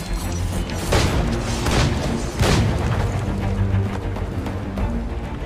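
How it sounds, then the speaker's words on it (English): Pistol shots boom during combat in Assassin's Creed 4 Black Flag, with two or three loud heavy blasts separated by about a second and a half, over a rumbling game battle backdrop. "You do have a max of 4 shots before reloading"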